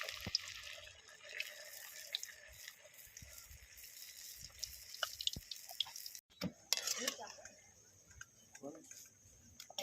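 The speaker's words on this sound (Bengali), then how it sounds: "এটা গরম হয়ে গেছে, এবার আমি লুচিটা ছেড়ে দেবো।" Chira luchi, a flatbread made with flattened rice, fries in hot oil with a soft, continuous sizzle and scattered crackles and pops. A brief dip comes partway through, then the sizzle returns.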